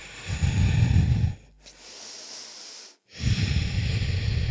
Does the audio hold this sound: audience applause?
no